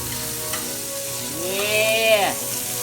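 Bacon sizzles in a pan with a constant bright hiss, and a whining tone briefly rises and falls over it.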